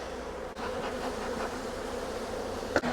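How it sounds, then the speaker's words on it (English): Continuous buzzing of many bees close by, a dense droning hum with a faint click near the end. "Look at all those darn bees."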